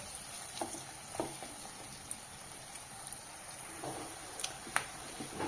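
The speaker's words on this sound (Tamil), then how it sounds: "பூண்டு நல்லா ஃப்ரை ஆகட்டுங்க." Crushed garlic fries in a pan for a bitter gourd fry, giving a soft, steady crackle broken by scattered sharp pops, fairly quiet and close with no talking.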